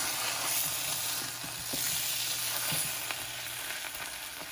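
A quesadilla browns in butter in a pan, giving a steady, close frying sizzle with a few small crackles and pops and no talking.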